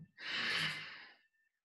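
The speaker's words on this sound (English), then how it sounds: "Breathe out. Breathe in. Breathe out." A single long exhale during a yoga breathing exercise, a soft, airy breath close to the microphone that swells and fades over about a second, with no talk.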